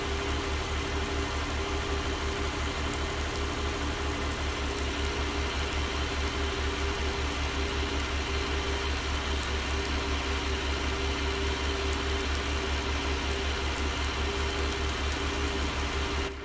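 A farm tractor's engine runs steadily and loud for the whole stretch, a constant low droning hum with a fixed tone and no change in pace, heard alone.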